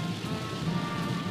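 Steady rain falls on a highway in a Nissan 350Z area setting, a dense, even hiss of drops on the road surface with a low rumble beneath, constant and close throughout, with no voices.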